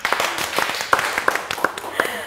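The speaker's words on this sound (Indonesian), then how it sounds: "Boleh tepuk tangannya?" Scattered hand clapping from an audience at the launch of the Alva electric motorbike, a loose run of sharp claps spread over a couple of seconds at moderate volume.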